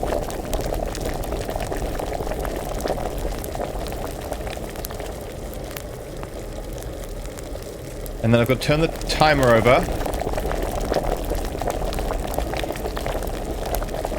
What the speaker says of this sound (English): Got to make sure those bubbles are going.